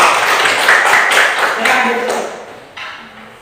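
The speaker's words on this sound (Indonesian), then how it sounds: "kasih aplaus untuk yang maju dan berkomentar" A classroom full of students clapping for classmates who came forward to comment: a burst of applause that starts loud and thins out over a few seconds.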